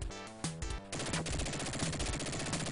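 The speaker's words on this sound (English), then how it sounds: "I'm still trying to shoot with the machine gun while ducking" A machine gun fires in Dick Tracy on the Sega Genesis, a rapid stream of chiptune-style shots hammering continuously over the game's music, loud and unbroken.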